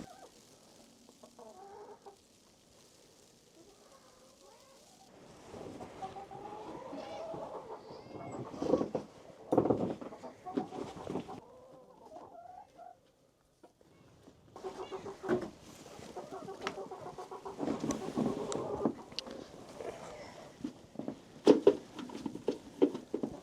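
Chickens cluck and murmur inside a homestead coop during a snowstorm, a busy flock of overlapping calls, some near and loud, with a quieter lull midway before the clucking resumes.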